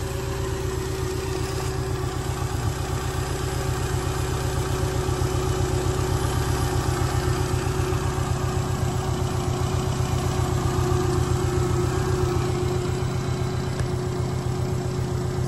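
A car engine idles steadily right after its engine bay has been washed, a close, constant low hum with a smooth even pulse and faint vibration, running alone without talk.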